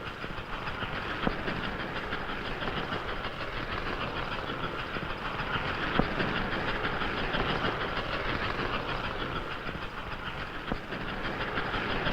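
A 1950 American Flyer model Union Pacific diesel locomotive climbs a grade on a toy layout, a steady dense rumble and rolling rattle of wheels on track that holds at an even level throughout.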